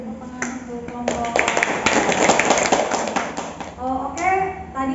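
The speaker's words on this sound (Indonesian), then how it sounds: "beri tepuk tangan untuk kelompok" A nursing class in a classroom claps for a group after its demonstration, with a burst of dense clapping lasting a few seconds, plus some taps and speech before and after.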